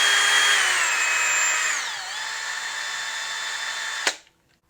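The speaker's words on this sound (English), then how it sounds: "so let's drop in a pocket screw." A DeWalt DCD778 cordless hammer drill drives a pocket screw in drill mode, its motor whine dropping in pitch under load before a sharp click and sudden stop.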